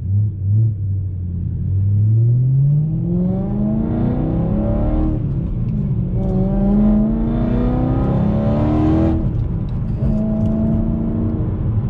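A BMW E92 M3 with a V8 and six-speed manual pulls through the gears from inside the cabin, the engine note climbing steadily three times with brief drops at each shift, a loud continuous drone.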